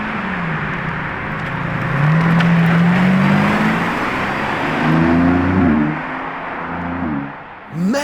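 Lamborghini supercars, a Temerario joined by a matte black Revuelto, run nearby with a steady engine drone that swells in loudness around the middle, with rising tonal revs, then dips before a final brief surge.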